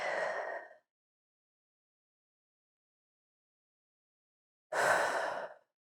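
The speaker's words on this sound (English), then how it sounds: "take a few deep breaths here." Two deep breaths taken while standing during an energizing yoga flow, each a soft, breathy sigh-like exhale lasting under a second, separated by several seconds of silence, close and clear.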